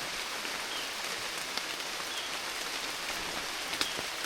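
Outdoor rain pours down in a constant, close hiss, with a few sharper drops ticking against surfaces and no voices over it.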